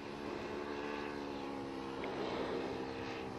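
Light aircraft SE-BRA in flight gives a faint, steady droning hum that stays even for a few seconds, with no voices.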